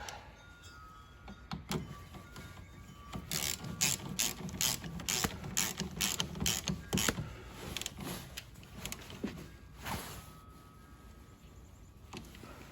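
Ratchet tightening the negative battery terminal on a 2015 Jeep Cherokee Sport with a 2.4 engine: rapid, close clicking pawl strokes in several quick bursts, with a few scattered clicks afterward.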